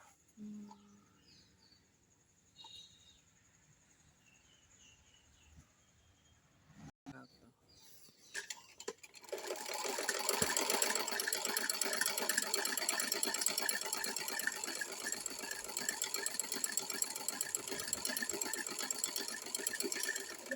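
A household sewing machine stitches fabric, starting after a quiet stretch with faint sounds and then running as a steady, loud mechanical whir that continues to the end.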